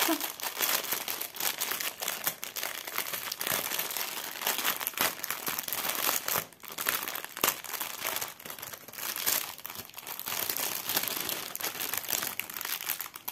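Plastic packaging of a stamped cross stitch kit crinkles and crackles continuously up close as it is opened, dense rustling bursts with a brief pause midway.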